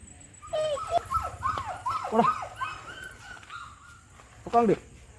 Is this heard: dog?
yes